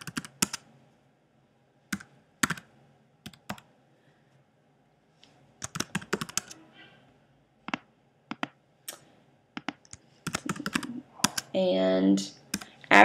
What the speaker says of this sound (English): you type in your 3 surfaces and the speed for each one of